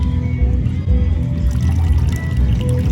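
Liquid pours from a cup at an outdoor hippie festival in Indiana, a steady splashing trickle close by over a constant low rumble of background noise.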